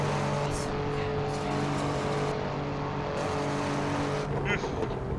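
A Fiat Egea accelerates along a highway, its engine droning steadily under loud road and wind noise heard from inside the cabin, with people talking over it.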